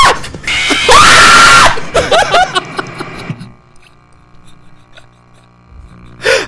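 While playing the FNAF horror game, a person lets out a loud, sustained scream, followed by gasping, panting and nervous laughter with a few short vocal sounds, then a quieter stretch with faint game noises.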